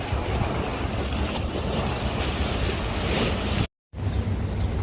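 Aegean Sea waves wash along the Izmir coast in a steady broadband roar mixed with wind buffeting the microphone, continuous and close, with a brief silent gap near the end.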